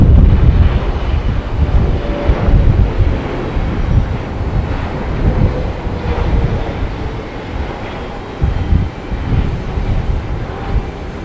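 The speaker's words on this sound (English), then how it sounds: "airlines 777-300 coming in from Dallas." An American Airlines Boeing 777-300 jet arriving from Dallas roars loudly and close, a heavy, continuous rumbling engine drone filling the whole stretch with no voices.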